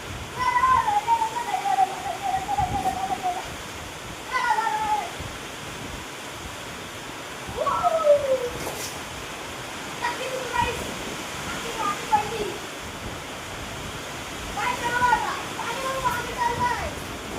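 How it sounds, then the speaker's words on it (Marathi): Heavy rain and gusting wind during a storm, a steady loud wash of noise with birds calling and children's and adults' voices talking and shouting over it. "पाऊस जाम जोरात आले"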